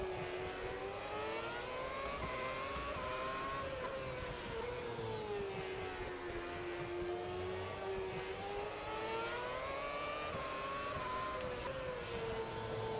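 A race car engine in Automobilista 2, set up with F1 2006 content, drones steadily at high revs for the whole stretch, its pitch rising and falling smoothly through gear changes. It is loud and continuous, with no talking over it.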